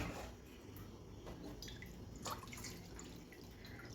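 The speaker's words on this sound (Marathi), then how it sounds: "मी इथे 3 पट एवढं पाणी घालून घेणार आहे" Water poured into a pot for cooking barnyard millet, a steady close trickle and splash running through the whole stretch with small drips on top, no voice.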